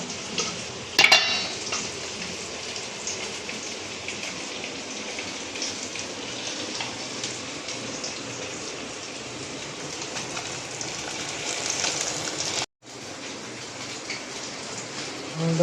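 Ginger, garlic and green chilli fry in a pan for Odisha-style fish curry, giving a steady, dense sizzle throughout with a brief clatter near the start and a momentary dropout near the end.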